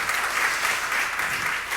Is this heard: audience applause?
yes